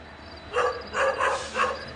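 A few barks from a dog some distance away, three short bursts in quick succession against a quiet background.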